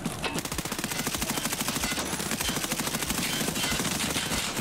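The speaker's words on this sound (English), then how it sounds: "Bro, I just emptied fucking like 30 bullets into this gun" Rapid automatic gunfire from a rifle in Escape From Tarkov Arena, a long unbroken burst of close, loud shots fired at a steady fast rhythm for several seconds.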